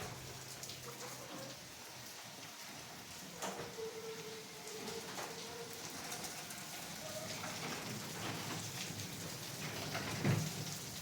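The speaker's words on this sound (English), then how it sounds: "it's so rainy" Heavy rain pours outdoors in windy, muddy conditions near a stream, a steady broadband hiss of drops on surfaces throughout, with a few louder splashes and faint distant rumbles mixed in.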